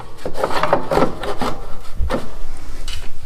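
The deck cover of a TimeCutter SS5000 mower is fitted back into place with close scraping and rubbing, several knocks and shuffling contacts, loud and near with no talking.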